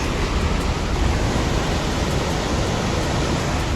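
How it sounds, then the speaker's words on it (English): Steady broadband rush of a waterfall far below a high bridge in the North Woods, a constant loud wash of falling water with no voices. "Alright, I believe we've made it to the waterfall."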